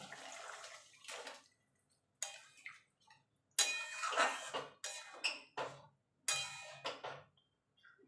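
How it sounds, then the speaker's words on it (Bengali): Paneer soaked in salted milk-water tipped into a hot pan, splashing and sizzling in several short bursts with pauses between, close and fairly quiet. "আমি যে দুধ দুধ জলে নুন দিয়ে পনিরটা ভিজিয়ে রেখেছিলাম সেটা এবার দিয়ে দেবো"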